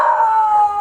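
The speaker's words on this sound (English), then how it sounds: "They're barking at Bella because Bella is out of her element." A dog gives one long, sustained howl close by, a steady wavering tone that slowly trails off, with no barking heard.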